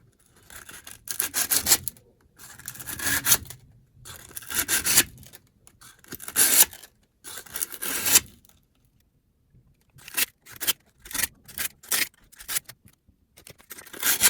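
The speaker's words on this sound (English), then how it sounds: "So not much force, just kind of scrape it off. You're almost wiping it down with a piece of sandpaper." Sandpaper is wiped and scraped lightly across a home furnace part in short bursts of close, dry rasping strokes separated by brief pauses, with a quicker run of strokes near the end.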